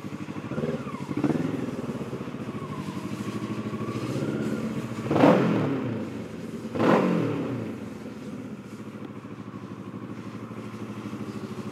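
A small Vespa scooter engine hums steadily throughout, with two brief surges of revving that rise and fade, fairly close.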